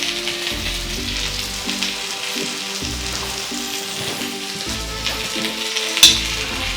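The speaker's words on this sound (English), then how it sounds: "I let it sear for a good few minutes to get a good color on it" Salmon fillets searing in a hot pan, a loud steady sizzle and crackle with low rhythmic thumps beneath and a sharp clink near the end.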